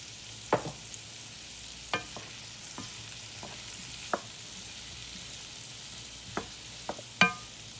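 Summer squash seasoned with black pepper and salt cooks down in a pan, a faint, low sizzle broken by a handful of scattered spoon clicks and scrapes, with no one talking.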